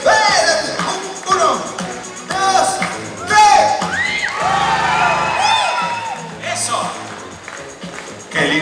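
Concert audience at a friendship festival shouting, whooping and cheering loudly on cue during a band's set, a dense sustained crowd roar with rising yells throughout.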